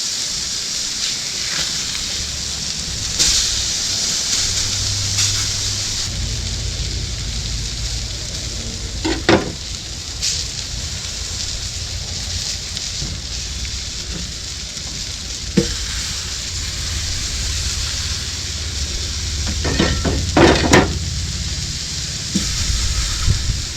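Salmon and asparagus searing on a flat-top griddle, a loud steady sizzle with scattered scrapes and taps of a spatula throughout, no talk.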